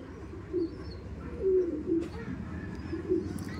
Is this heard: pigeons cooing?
yes